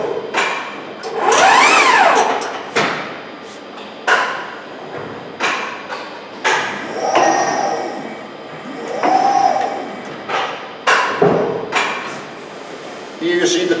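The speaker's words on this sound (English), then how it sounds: "Here you see the Pro Z folding a 3 meter 10-foot sheet in 4 millimeter thickness, 9 gauge." A CIDAN Pro Z panel bender folds a 3-meter, 4 mm (9 gauge) metal sheet, with repeated loud mechanical clunks and thumps, whirring motor surges and ringing metallic pings spaced every second or two.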